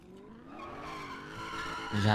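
Tires skid and squeal as a car drifts in a driving game, with a sustained engine-like whine, steady and close, swelling louder near the end, a voice talking over it.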